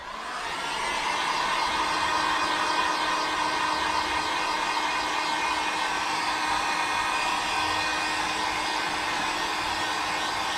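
A heat gun blows hot air onto automotive window tint to loosen it for removal, a steady loud whooshing whine that switches on near the start and holds evenly for about ten seconds, with no one talking.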